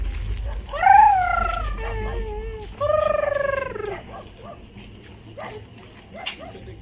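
A dog lets out two drawn-out, whining howls close by, separated by a short pause, followed by quieter rustling.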